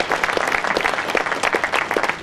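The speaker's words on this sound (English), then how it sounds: "So let's give them another round of applause." Audience applause for a Caltrans team at a bridge opening, a dense, steady wash of many hands clapping at close range, continuous for the whole stretch with no talk over it.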